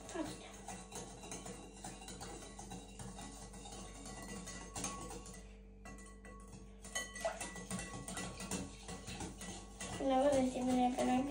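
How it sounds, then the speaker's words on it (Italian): A spoon clinks and scrapes against a bowl while sugar, half a lemon's juice and water are stirred together, soft repeated tapping with a louder burst of scraping near the end; a voice talks over it. "mettiamo in una ciotola zucchero, succo di mezzo limone e acqua. E mescoliamo tutto."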